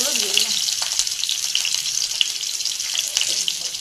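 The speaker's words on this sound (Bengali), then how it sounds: "আগে পেঁয়াজগুলো একটু ভেজে ভেজে নেবো।" Onions frying in oil in a wok make a continuous, dense hissing sizzle with small crackles, close and steady for a few seconds.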